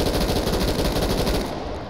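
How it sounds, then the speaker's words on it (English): Commando rifle in the shooting game Hot Dogs, Horseshoes & Hand Grenades fires rapidly, a dense stream of sharp close shots with steady rhythm, fading slightly toward the end, no talk. "Let's pull out the Commando. I think it's in full auto. Nope, burst."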